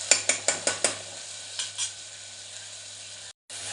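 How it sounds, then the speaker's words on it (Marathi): Marinated paneer fries with curry leaves, cumin and mustard seeds, opening with five quick, evenly spaced crackles and pops that give way to a steady close sizzle, a low hum beneath, and a brief dropout near the end. "मॅरिनेट पनीर आता फ्राय होत आहे आणि त्यात आपण टाकले आता कढीपत्ता, जिरे, थोडी मोहरी"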